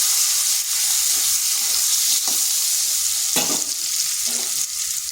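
Potatoes cut into long strips fry in hot oil with turmeric and salt, giving a loud, steady sizzle with occasional stirring scrapes and crackles throughout.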